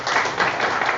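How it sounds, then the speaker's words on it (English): Brief burst of applause from an audience at a tech meetup and workshop day, dense clapping close and fairly loud for about a second. "A final big round of applause for all of you."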